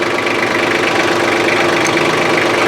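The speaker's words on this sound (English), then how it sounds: "if you'll start the tractor" A farm tractor engine used for raking and baling hay runs loud and close at a steady idle, a dense rough mechanical drone with a knocking pulse and no talking.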